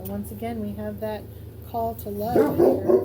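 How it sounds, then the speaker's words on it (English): A household guard dog barks in a quick burst of several sharp woofs under a woman's calm speech, followed by more rough, overlapping barking near the end. "We have a dog that's a guard dog, and he barks at a lot of things."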